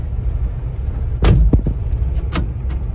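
Road traffic passes on the existing Manali road at Kothipura, including a tanker truck, with a steady low vehicle rumble and a few sharp knocks and rattles from passing vehicles close by.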